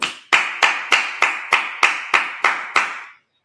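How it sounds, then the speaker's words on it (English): Ten sharp claps at a steady, slightly slowing beat during a Sabbath service, loud and close, each ringing briefly before the next. "Clap it up."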